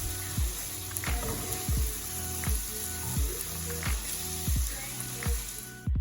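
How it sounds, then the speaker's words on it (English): Meat frying in a hot pan for pad thai, a steady low sizzle broken by a series of regular soft clinks and stirring knocks, close and fairly quiet. "Cook your protein for about 6 to 8 minutes"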